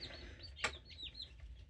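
A Cream Crested Legbar chick cheeping nearby, a few soft high peeping calls over a low background hum, with one brief sharp tap in the middle.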